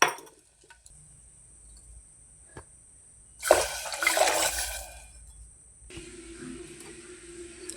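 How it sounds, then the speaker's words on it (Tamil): After a faint clink, three tumblers of water gush into a pot for biryani for a couple of seconds, loud and close, then settle to a quiet trickle. "இந்த டம்ளருக்கு மூணு டம்ளர் தண்ணி வந்து ஊற்றிக்கிறேன்"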